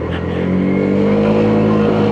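A Lexmoto OCR motorcycle accelerates during a road ride test, its engine drone loud and steady under rushing wind noise, with the pitch holding roughly even throughout.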